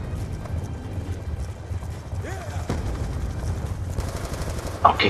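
Hooves of a riderless horse in a Call of Duty: Black Ops II campaign battle, a rapid clip-clop under ongoing gunfire and mechanical battle noise, with a brief whinny-like tone midway and a sharp shot near the end.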